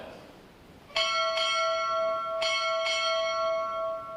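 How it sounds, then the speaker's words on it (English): A ship's bell rings four times in two quick pairs at a U.S. Navy Recruit Training Command boot camp graduation ceremony. Each clear, ringing strike hangs and sustains in a large hall, and there is no talk. "Time orderly, strike 4 bells."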